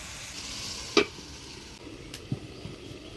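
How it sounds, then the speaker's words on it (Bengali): Grated bottle gourd frying with turmeric and salt is stirred in a pan, with a low steady sizzle broken by a few distinct spatula knocks and scrapes. "লাউটা হলুদ লবণ দিয়ে ভালো করে নাড়াচাড়া করে নিলাম"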